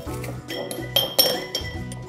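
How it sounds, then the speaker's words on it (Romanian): Pressed garlic going into a glass jar, with several sharp glassy clinks and taps in quick, irregular succession, close and fairly clear. "Și voi trece usturoiul prin presă și o să-l pun aici în borcan"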